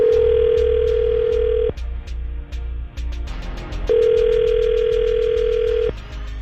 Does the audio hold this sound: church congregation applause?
no